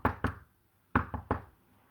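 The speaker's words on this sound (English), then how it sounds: "So Aries loudly knocks" Loud ceremonial knocks in a magical ritual, struck as a pair and then a group of three, sharp and close with quiet between them.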